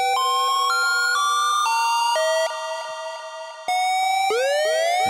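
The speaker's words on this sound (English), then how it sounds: "If we want our siren to be tuned into the track, we will launch it." A synthesized dub siren effect played in Ableton sweeps through bright repeating tones that step and glide in pitch, then rises in rapid whooping swoops, loud and continuous with no talking.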